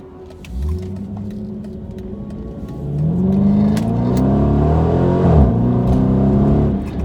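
A 2014 Dodge Challenger R/T V8 car engine revs up hard, rising harmonics climbing as it accelerates, loud and close, with a deep rumbling tone throughout.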